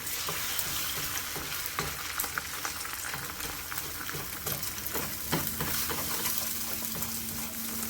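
A single beaten egg sizzles steadily in a little hot oil, a continuous frying hiss with occasional crackles and faint utensil clicks, close and fairly quiet.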